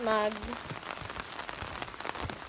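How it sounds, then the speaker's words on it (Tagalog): Steady heavy rain pattering on a surface in Bohol, a dense continuous hiss with scattered drops, after a brief voice at the start. "Oh my God, it's raining."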